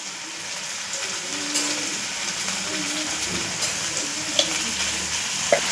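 Turmeric, garam masala and homemade spice mix sizzle and fry in a pan for a Marathi fish curry, a steady close crackle with occasional stirring scrapes and taps.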